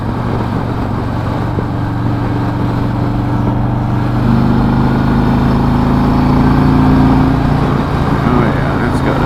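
A 2018 Harley-Davidson Road Glide Ultra motorcycle engine runs steadily at idle, a low continuous rumble with a slight rise in pitch midway, close and fairly loud throughout.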